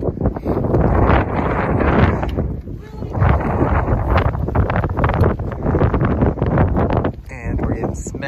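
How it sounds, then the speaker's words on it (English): Strong, cold, damp wind on a canyon hiking trail in Badlands National Park, roaring steadily and buffeting close against the microphone. "we're getting smacked in the face with the wind, and it is a very moisturized wind"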